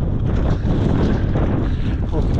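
Strong wind on snowy Monte Crot buffets the microphone in a continuous loud, roaring rumble with gusty surges and no pauses.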